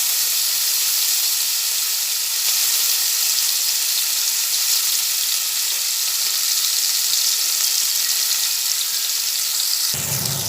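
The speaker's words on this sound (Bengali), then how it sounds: "এবার এই যে তেলটা আছে তেলটার মধ্যেই আমি কিছুটা পেঁয়াজ কুচানো দিয়ে দেবো" Chopped onion fries in hot oil left from frying potatoes, a loud, steady, close sizzle that continues unbroken before cutting off abruptly at the end.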